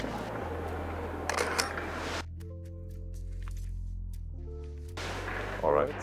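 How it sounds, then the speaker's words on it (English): A film camera loaded with Harman Phoenix 200 fires a long exposure in low light on a Barcelona street: an opening click, a sustained quiet gap while the shutter stays open, then a closing click, with voices before and after. "Oh, that was a very long shutter"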